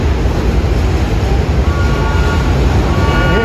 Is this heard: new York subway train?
yes